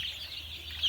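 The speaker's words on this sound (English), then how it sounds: "425 baby chicks," A dense, continuous chorus of high peeping from a crowd of about 425 day-old Cornish Rock Cross meat chicks, steady and fairly close, with no talking.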